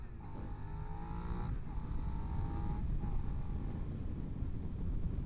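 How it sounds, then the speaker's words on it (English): A Suzuki SV650 V-twin motorcycle engine pulls hard under throttle, its rising harmonic drone climbing in steps through short gear changes, steady and close, mixed with wind rush. "That V-twin hit that throttle and it wants to go"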